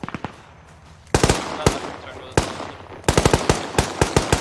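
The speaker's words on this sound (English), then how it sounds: "Cristiano, hold fire!" Automatic gunfire in the video game ARMA crackles in sharp bursts at close range, with a few isolated shots followed by rapid volleys of cracks, and voices briefly audible between them.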